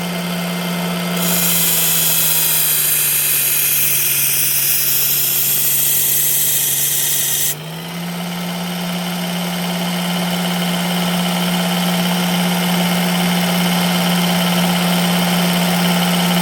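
A rough-grit abrasive grinds the edge of a Twosun TS304 knife to remove a chip: a steady motor hum runs throughout, with a harsh, loud hissing grind for about six seconds before the motor carries on alone.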